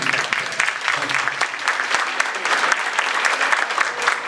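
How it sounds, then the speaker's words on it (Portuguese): An audience at a parish Mariology course applauds a priest with loud, dense clapping. It sustains evenly throughout, with faint voices mixed in beneath. "Então uma salva de palmas para o padre."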